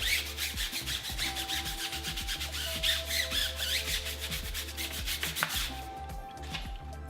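A stiff brush scrubs a dirty car tire, giving steady, rapid rasping strokes up close and loud, continuing without pause and thinning out near the end.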